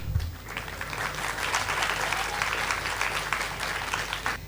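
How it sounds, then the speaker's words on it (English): Sustained applause from an event audience, thick with overlapping claps, runs at a steady moderate level. A low hum sits underneath, and a faint voice can be heard at times through the clapping. "Can we give a standing applause for all these great luminaries who have been on the stage?"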